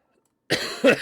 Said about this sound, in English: my goodness, what a cough